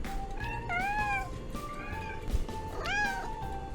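A cat meows a few times, drawn-out and rising, fairly quiet over a low background hum.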